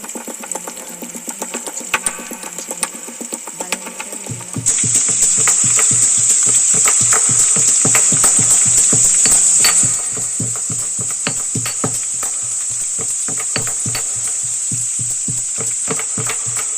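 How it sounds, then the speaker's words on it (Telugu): Crushed garlic frying in a kadai, a soft sizzle that swells louder partway through, with steady rhythmic ticking and stirring clatter running throughout. "ఇలాగ ఎల్లిపాయలు కూడా దంచుకొని అవి కొంచెం వేగిన తర్వాత ఇది వేసేసి కొంచెం వేగించాలి"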